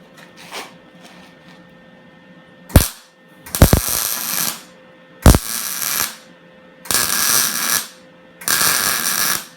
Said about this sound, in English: now I'm just going to go ahead and tack weld in a few spots